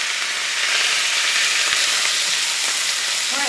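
Garlic cloves sizzle in a hot pan beside a seared sous vide ribeye steak, a loud, continuous frying hiss with a faint clink partway through.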